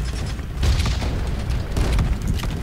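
Guns firing in the Roblox pirate game Pirate Clash: heavy booming shots land around the middle and again near the end, over a busy mechanical game backdrop.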